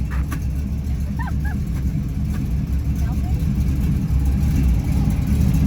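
A car engine growls and revs steadily through a burnout on already warm tires, a loud, continuous low rumble with faint squeals and voices nearby.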